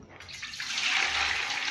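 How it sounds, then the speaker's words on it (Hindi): Water is poured into a large cooking pot, about two litres, the splash swelling into a steady rushing gush that grows louder toward the end. "2 लीटर करीब पानी डालेंगे"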